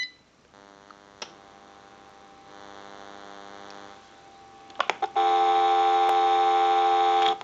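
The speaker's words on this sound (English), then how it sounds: "We'll go ahead and give you some dial tone." A steady electronic tone from a General Electric 6.0 27909 cordless telephone under repair hums, shifts pitch partway through, then after a few clicks a louder continuous dial tone sounds until it abruptly stops.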